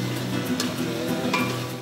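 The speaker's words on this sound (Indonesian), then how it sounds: "Tinggal ditumis dengan minyak goreng dan tuangkan ayam suwir." Shredded chicken stir-fried in cooking oil for a Balinese ayam sisit dish at a restaurant, a close steady sizzle broken by a few scraping stirs and light clinks of utensil on pan.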